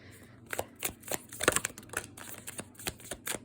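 Rapid riffling and flicking of tarot cards being shuffled, a quick series of soft papery snaps close by, with no talking.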